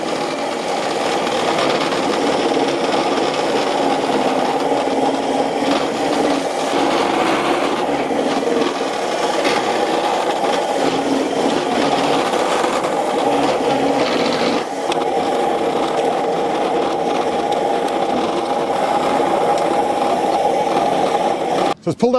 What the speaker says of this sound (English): Right, power on, button in, pull the handle back, and it's spinning round.